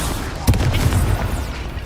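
A Confringo blasting spell from the Hogwarts Legacy video game goes off in a duel, giving one sharp booming burst that rings out briefly over a steady background rumble.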